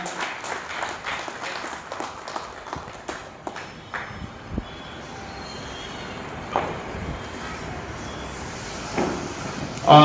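Audience applause at a felicitation ceremony honouring a newly appointed community leader in Solapur, a burst of scattered claps up front that thins into a murmur of crowd noise and talk.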